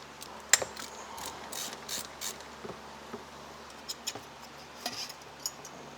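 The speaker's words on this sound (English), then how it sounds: "So we just need to disconnect one screw down here." A screw is unscrewed on the fuel pump float of an NA/NB Mazda Miata, sounding as faint scattered clicks and small ratcheting ticks over a quiet background, with no talk.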